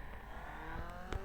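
Motorcycle engine revving in the Traffic Rider racing game, a steady mid-pitched drone that swells slightly toward the end over about a second, with no talking.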